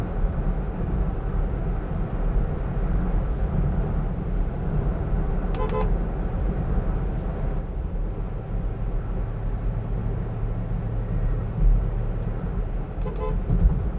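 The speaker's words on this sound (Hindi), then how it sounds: "अभी यहाँ पे इतना ट्रैफिक है," Steady road traffic rumble heard from inside a 2009 Honda City while driving, with short car horn toots breaking through around the middle and again near the end.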